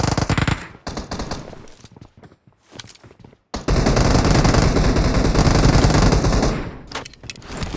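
Rapid automatic gunfire in the Battlegrounds Mobile India (BGMI) battle royale game: a loud opening burst, a stretch of scattered quieter shots, then a long sustained barrage of close fire, with no speech.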